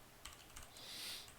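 A few soft keystrokes tap on a computer keyboard, ending with the enter key, faint and close in a quiet room.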